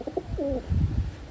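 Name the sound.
pigeons cooing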